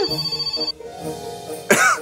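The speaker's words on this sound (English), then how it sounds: "Did God uh, call Mary on the phone?" A telephone ringing sound effect plays during a preschool worship lesson, with a quick run of regular pulsing rings for under a second, followed by a brief louder burst.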